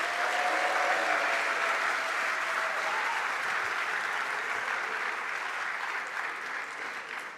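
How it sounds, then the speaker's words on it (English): Sustained applause from a large audience at an athletics awards ceremony, a dense wash of clapping that holds steady and tapers slightly toward the end. "another round of applause for all the award winners in the room tonight"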